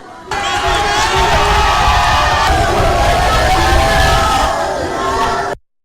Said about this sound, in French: le chef de l'État a salué la foule qui l'a fortement ovationné.